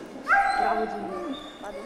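A dog gives a short, high whining yip that rises and slides downward over about a second, close and fairly loud, with a person's voice around it.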